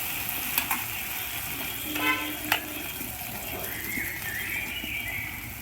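Tomatoes cooked down with salt and ground spices fry in a pan in a village kitchen, a constant soft sizzle broken by a few scraping stirs and light clinks of the spoon against the pan.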